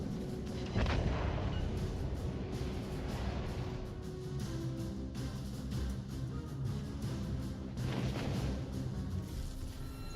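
Battleship main guns firing in World of Warships Legends, with heavy booming blasts around the first second and again near eight seconds over a continuous low rumble of in-game battle noise.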